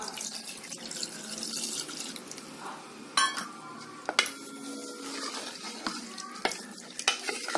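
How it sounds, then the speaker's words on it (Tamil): Coconut milk pours into a simmering mutton curry in a home kitchen, giving a soft liquid swishing with a few sharp clinks and splashes, close and moderately quiet, with no talking. "தேங்காய் பால் ஒரு கப் ஊற்றணும்மா"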